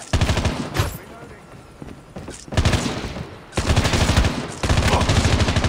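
Bursts of automatic gunfire from the mobile shooter Call of Duty Mobile, loud and rapid, coming in several sustained volleys with short gaps between them.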